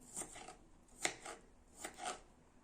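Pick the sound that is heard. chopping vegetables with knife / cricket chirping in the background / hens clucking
chopping vegetables with knife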